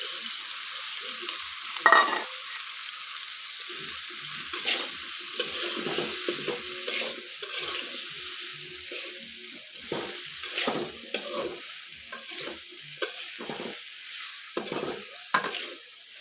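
Tomato and eggplant pieces hit hot spiced oil with a loud hiss, then fry in a steady close-up sizzle broken by scraping stir strokes; no voices.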